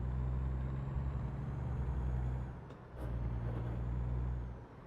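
A big rig in American Truck Simulator shifts gears, a steady low engine drone that dips briefly during the shift with a short airy hiss, then returns, with no voices.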